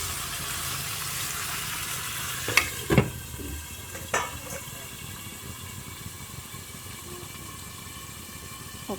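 Pork with garlic and pepper frying gently over low heat, a soft steady sizzle throughout with a few brief clinks and stirring knocks near the start, no voices.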